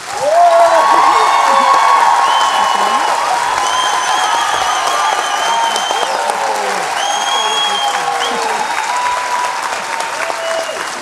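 Audience clapping to vote for the 'for' side at a New York Times debate, a loud sustained applause filling the room for about eleven seconds with a few whoops and cheers mixed in.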